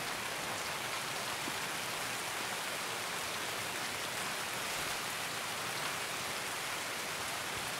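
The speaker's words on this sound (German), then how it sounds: "Wo du die ganze Zeit das Gefühl hast, das knistert so komisch und du siehst gar keinen Regen" Steady drizzling rain in the video game Escape from Tarkov, a soft, even hiss of fine drops with a faint crackle that runs unbroken throughout, with no voices.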